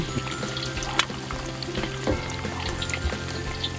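Chicken wings deep fry in oil heated to 360 Fahrenheit, giving a steady crackling sizzle with scattered pops and bubbling at close range and no voices.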